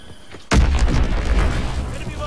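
A bomb blast in the video game Call of Duty WWII hits with a sudden heavy boom, followed by a dense rumbling roar of debris and battlefield noise that stays loud.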